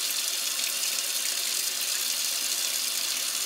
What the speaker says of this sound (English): And then we're going to rinse very well